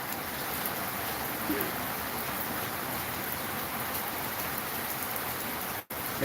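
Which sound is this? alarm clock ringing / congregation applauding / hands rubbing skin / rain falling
rain falling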